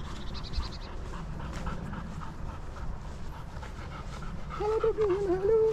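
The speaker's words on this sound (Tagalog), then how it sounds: "May aso doon." A dog pants in quick, steady breaths close by on a morning walk, then lets out a higher whimpering whine near the end.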